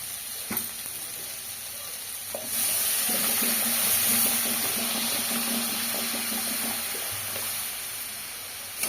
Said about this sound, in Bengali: ভাজা হয়ে গেছে, এবার জল ঢেলে দেবো।